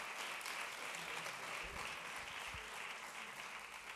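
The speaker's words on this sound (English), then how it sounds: "Now you can clap." Audience applause at a conference talk on the Europeana publishing framework and licensing, a steady dense clapping from a crowd that fills the whole stretch at an even level.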